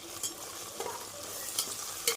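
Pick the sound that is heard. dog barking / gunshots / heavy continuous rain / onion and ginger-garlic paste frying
onion and ginger-garlic paste frying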